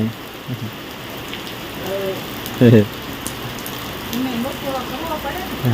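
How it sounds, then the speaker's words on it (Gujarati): Heavy rain falling in a village, a steady hiss of drops on surfaces throughout, with a loud thump partway through and faint background voices. "આવો કંઈક વરસાદ ચાલુ થઈ ગયો"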